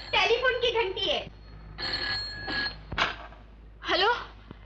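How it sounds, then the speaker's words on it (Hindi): An old telephone bell rings in short, shrill bursts with pauses between them, in a 1968 Hindi film scene, while voices speak between the rings. "खाने की घंटी नहीं है, टेलीफोन की घंटी है।"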